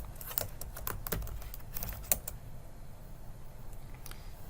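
Fingers type on a computer keyboard at a terminal prompt, producing a brisk run of quiet, irregular key clicks that thin out toward the end, with no voices.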